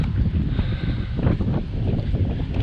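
Strong wind rumbles and buffets the microphone in loud, uneven gusts at a campsite in Fitzgerald River National Park, a low roaring blast that never lets up.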